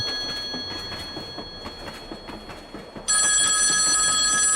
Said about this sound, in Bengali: ঠিক এই সময় আকাশের ফোনটা বেজে উঠল।